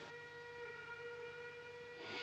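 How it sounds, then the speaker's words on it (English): Steam train arriving at a western frontier station, its whistle sounding a long steady multi-toned blast throughout, loud and near, with a rush of hissing steam swelling at the end. "Last message we got said the train had passed 10 Mile Tower. She'll be here any minute."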